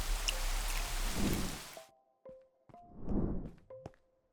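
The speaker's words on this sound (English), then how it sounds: "I love rain sounds myself" Rain falls steadily on surfaces in a Minecraft ambient sound mod, a dense hiss that cuts off abruptly partway through, followed by a few soft thumps, brief tones and another short gust of rain-like noise.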